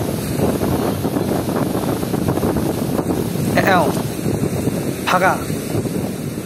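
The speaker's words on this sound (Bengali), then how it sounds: "এত সুন্দর ঠান্ডা হাওয়া, জলের কি সাউন্ড" Cool wind buffeting the microphone beside flowing river water under a bridge, a broad rushing roar that stays steady, while someone speaks briefly over it.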